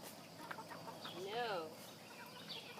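Chickens clucking at a park farm, a few soft, fairly close clucks and one warbling call over quiet background, with a person speaking lightly nearby.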